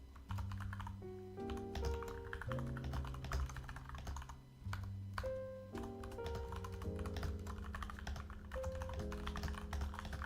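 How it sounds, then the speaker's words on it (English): Close-up typing on a computer keyboard, rapid irregular keystrokes clattering continuously over a faint background hum, with no talking. "Sorry for typing in your ear once again."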